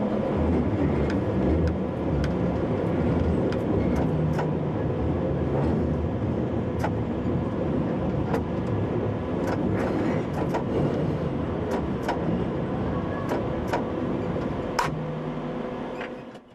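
Bakerloo line London Underground train rumbling steadily as it approaches Waterloo, a continuous loud rolling roar with periodic clicks and rattles from the track, no voices.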